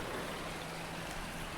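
Steady, even rain patter on a farm in a farming survival video game, a constant close wash of droplets with no pauses and no talk.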